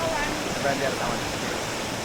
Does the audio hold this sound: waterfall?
yes